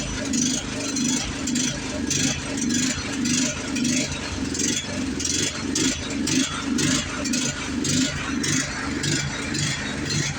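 A lawn mower engine runs without choke, a close, steady clattering putter with a rough, pulsing rhythm, a voice talking over it.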